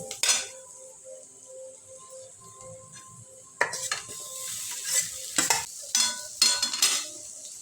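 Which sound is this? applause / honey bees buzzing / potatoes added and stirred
potatoes added and stirred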